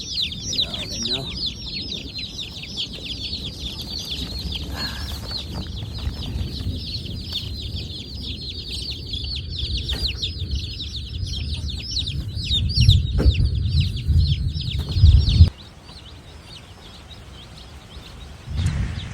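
Baby meat chickens settled in their new home keep up a continuous high peeping and cheeping. Low rumbling and handling noises sit beneath it, then the chirping stops abruptly near the end.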